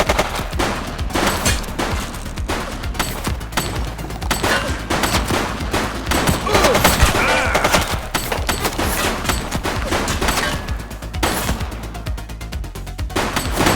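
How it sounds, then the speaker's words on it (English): Sustained, loud gunfire rattles through a police shootout in the video game Precinct on Xbox Series X, with rapid overlapping shots and bursts continuing almost without pause from start to finish. "Shots fired!"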